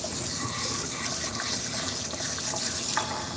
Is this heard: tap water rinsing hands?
yes